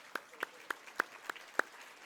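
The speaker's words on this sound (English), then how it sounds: "let's give a great big round of applause to Ryan" Six sharp, separate claps ring out at a slow, even pace, fairly quiet and well spaced rather than a full round of applause, at a charity breakfast event.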